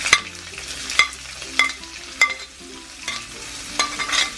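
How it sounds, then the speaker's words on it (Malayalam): Onions sautéing in a pan for potato curry, with sharp spatula scrapes and taps recurring about every half second over a low sizzle, close and clear. "നമ്മൾ എടുത്തു വെച്ചിരിക്കുന്ന ഉള്ളി അതിലേക്ക് ഇട്ട് നന്നായി വഴറ്റുക."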